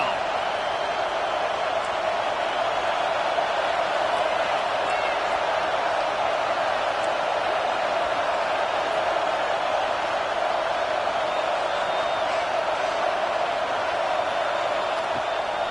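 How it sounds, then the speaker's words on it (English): A home crowd roars in a college football video game during an Oregon versus Alabama matchup as the defense faces third down, a loud, steady, unbroken wall of noise lasting throughout. "Here comes this home crowd as the defense tries to get off the field on 3rd down."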